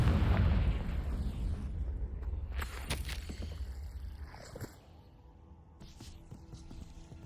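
Confringo fire spell erupts in Hogwarts Legacy with a heavy boom that rumbles and fades, followed by a sharper burst near three seconds amid quieter game ambience.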